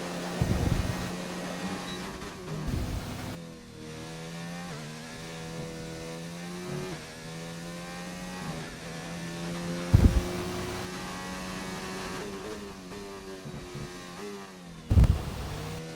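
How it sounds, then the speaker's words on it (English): A race car engine in a racing video game drones steadily on track, its harmonic whine rising and falling with throttle changes, broken by a few brief thumps. "Another car just coming out on track."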